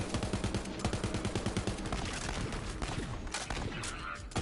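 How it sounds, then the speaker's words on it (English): Rapid explosive sniper rifle shots fire in Borderlands 3, a dense run of sharp cracks and booms going on throughout without a break, loud and close, with faint game sounds mixed in. "Explosive snipers are fun."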